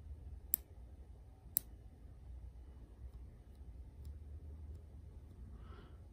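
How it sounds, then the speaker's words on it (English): A budget BestSight red/green dot reflex sight is adjusted with an Allen wrench, giving a few sharp, faint clicks over a quiet room hum. "we'll see if that thing actually does make a clicking sound or not"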